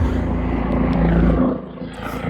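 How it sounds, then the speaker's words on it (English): A helicopter flies over a house, giving a steady, loud, low rotor roar that fills the background and eases off slightly near the end. "So there's helicopters flying around my house right now"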